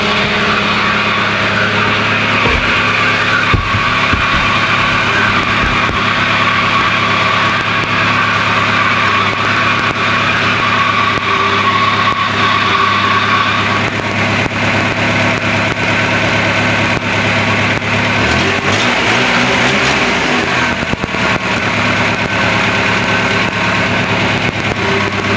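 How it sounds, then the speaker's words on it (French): A car engine on a hybrid two-engine-in-one build idles steadily with heavy misfires, a continuous close rumble with uneven stumbles throughout and no talking. "Il y a des gros ratés."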